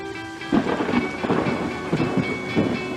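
Steady rain patters while low rumbles of thunder roll through repeatedly, fairly loud and close.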